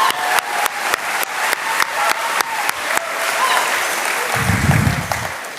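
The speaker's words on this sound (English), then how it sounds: "Can we give her another round of applause?" Applause from the audience at a high school graduation ceremony, opening with rhythmic, evenly spaced claps that build into a continuous roar of clapping, loud and close, with a low rumble near the end.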